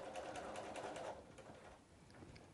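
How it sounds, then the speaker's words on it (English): A sewing machine stitches a plain seam in fabric, a steady, fast, close whir with a rhythmic needle pulse that eases slightly toward the end. "she's sewing the plain seam, making sure she's following that guide"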